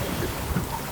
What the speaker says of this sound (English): Enjoying some downwind sailing on Seawind.